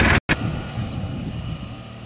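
A tractor engine turns over and settles into a steady running rumble after a brief dropout, a broad continuous drone close by with no talk over it.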